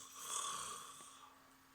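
A storyteller's voice imitates a colossal dragon snoring, one drawn-out, rasping breath that swells and then fades, close and fairly soft, with nothing else around it.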